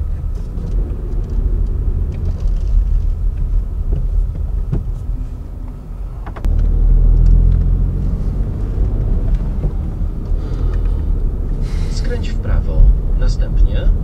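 A car drives along a road heading toward a forest, steady low engine and tyre rumble from inside the cabin that swells louder partway through, with people talking over it.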